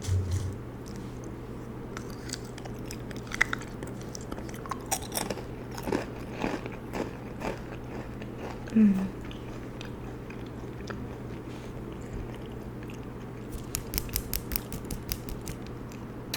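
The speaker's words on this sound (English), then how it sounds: "Should I eat another Cheez-It while I look?" Someone chews crunchy Cheez-It crackers close to the microphone, a run of soft irregular crunching bites and mouth sounds over a low steady hum, faint at times and clustering toward the end.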